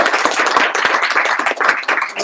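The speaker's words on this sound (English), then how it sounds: "Let's give a round of applause for" Applause from a meetup audience of developers at a blockchain event, a dense, steady burst of many hands clapping together that carries on at an even level without pauses.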